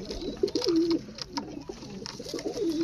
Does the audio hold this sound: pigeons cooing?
yes